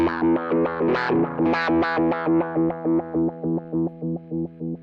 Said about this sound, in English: So we start with the square wave here.